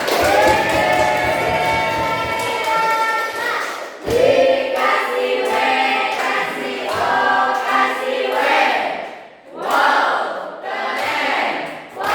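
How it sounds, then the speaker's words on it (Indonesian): A classroom group of teacher-training students in Indonesia applauds, a loud burst of clapping and cheering voices that opens after a voice and then rises and falls in waves with brief lulls. "Semuanya kasih tepuk tangan."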